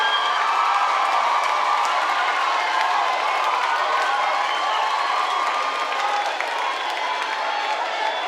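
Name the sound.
audience applause and cheering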